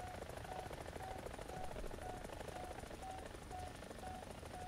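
Helicopter engines in a combat flight video game hum steadily as a continuous drone with a faint repeating tone, holding at moderate level throughout with no gaps.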